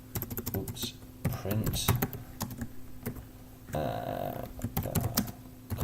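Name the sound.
typing on a computer keyboard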